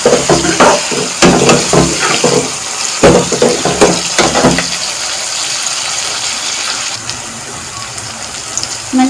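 Green onion is stirred into matar pulao in a pot, with a run of close, wet scraping and churning strokes that gives way to a steady bubbling hiss of cooking.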